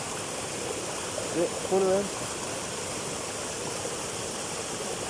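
Cold water rushing over a waterfall at a jungle pool, a steady broadband roar of flowing water that fills the whole clip, with a brief spoken question partway through.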